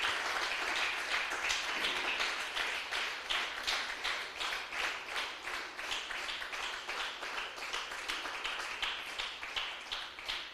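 A church congregation claps for the Lord during a Spanish-language sermon, a steady, rhythmic, evenly pulsing applause sustained throughout at moderate, somewhat distant volume.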